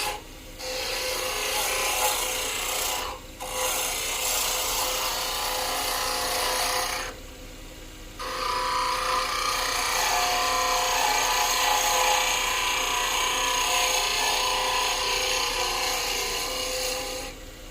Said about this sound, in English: This makes this tool as stable as humanly possible as I make these very fine refining cuts.